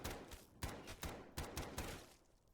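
MP5 submachine gun firing in Black Ops 3 Zombies, a few short bursts of sharp, loud shots spaced out over a couple of seconds with no talking.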